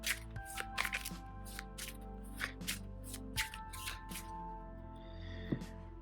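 Marvel Champions playing cards are shuffled on a tabletop during a game, a run of quick riffling bursts and soft slaps close by over a low background hum, with no talk.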